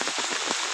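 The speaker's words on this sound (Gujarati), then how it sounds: "આજે ફૂલ વરસાદ ચાલુ છે" Heavy rain pours down in a dense, continuous hiss of drops drumming on surfaces, loud and close, with no voices.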